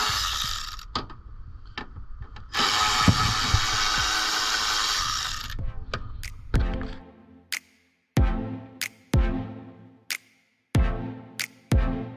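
A ratchet and tools work loose the bolts on a Kia Soul's front end during bumper removal, with a stretch of loud power-tool whirring followed by a series of sharp, spaced metallic clicks and clanks, close and without talking.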